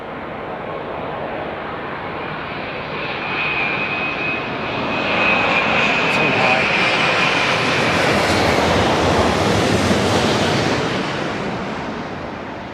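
A large airliner on final approach roars past close and loud, its engine whine rising and swelling into a broad rushing rumble of wake turbulence that lingers and churns for several seconds.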